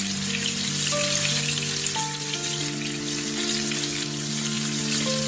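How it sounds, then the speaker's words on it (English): Chicken kafta kebabs fry steadily in hot oil, giving a continuous, close crackle with a light patter like rain, while a low tonal hum sits underneath throughout. "Fry all your kebabs in the similar manner."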